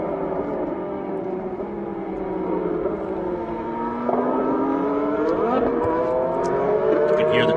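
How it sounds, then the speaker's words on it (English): Race cars on a wet, spray-covered track spin their tires, engines whining in rising and falling pitch sweeps that overlap loudly and continuously, with a second surge of revving partway through. "Cars spinning the tires up."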